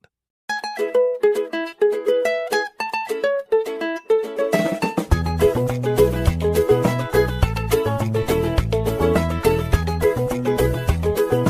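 A Zolo phone ringtone for incoming calls opens with plucky, sparse melodic notes. About halfway through, a fuller, denser arrangement with a driving beat joins in. The tune is loud and continuous, with no voices.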